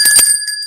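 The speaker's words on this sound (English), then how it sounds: "Get to 100, we ring the bell." A small hand bell rung on a weather podcast gives a bright metallic strike with sustained ringing tones that decay over under a second, close and fairly loud, with a brief second tap near the end.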